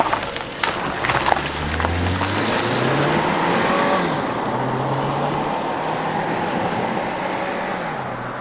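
A 2018 Volkswagen Tiguan SE 4Motion on the road, its engine and tyre noise forming a steady loud drone with a low pitch that rises and falls as it accelerates and shifts.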